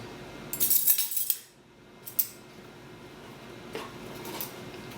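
A small metal quarter-teaspoon measuring spoon clinks during home baking, with a few light, bright taps early on and a single tiny click afterward, close by in a quiet room.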